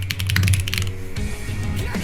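Rapid keystrokes tapped on a computer keyboard, a dense burst of clicks over the first second, then a pause and a few softer taps over a steady low background hum.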